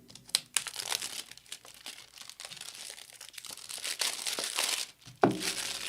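A pack of NFL trading cards is ripped open up close, foil wrapper crinkling and tearing in uneven bursts with a sharp louder rip near the end, no speech over it.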